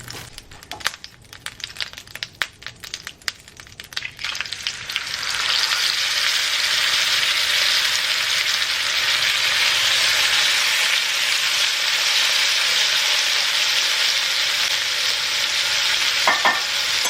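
Salmon frying in olive oil and butter begins with crackling, spitting bursts of hot fat, then settles into a loud, steady, close sizzle that continues to the end with no talking.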